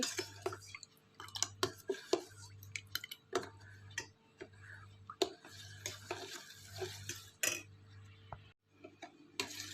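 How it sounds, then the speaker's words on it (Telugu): Repeated light scraping and clinking of a spoon stirring jaggery melting in a pot, with a low hum beneath, fairly quiet. "ఇట్లా ఒక వన్ మినిట్ టూ మినిట్స్ తిప్పితే బెల్లం కరిగిపోతుందండి"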